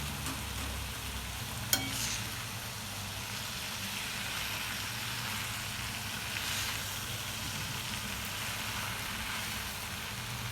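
Fenugreek leaves cooked with moong dal and green chillies sizzle steadily in a pan as they are stirred, a constant hiss broken by one brief clink of the utensil.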